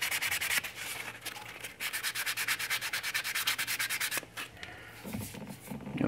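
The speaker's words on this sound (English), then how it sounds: "I'm gonna try to sand that out" Steady scratchy sanding strokes rub across a seam line on a 1/6 scale vinyl model kit figure, close and continuous with rhythmic back-and-forth passes and no talking.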